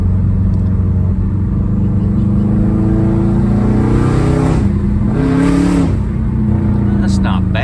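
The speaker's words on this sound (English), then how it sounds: "I've given a little bit of RPMs at, you know, like a lower throttle position" A 2005 Subaru engine turns over at low throttle with a light rev, a steady loud rumble running throughout and rising slightly near the middle, while a person talks over it.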